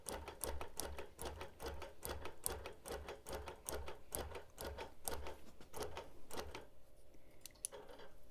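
A sewing machine runs in rapid bursts while free motion quilting a hexie quilt, its needle clattering in a fast even rhythm for several seconds before stopping, followed by a couple of faint clicks.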